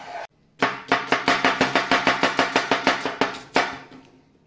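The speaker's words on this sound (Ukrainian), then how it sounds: "Цибулю ріжемо полукольцем." A knife chops an onion into half rings on a cutting board, about fifteen quick, even strokes in a steady rhythm, close and crisp with no talking.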